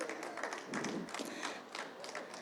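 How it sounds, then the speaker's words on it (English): Audience applause for a fiddle player at a live bluegrass-style performance, a steady moderate round of many hands clapping without clear voices. "if you could please just give her a round of applause"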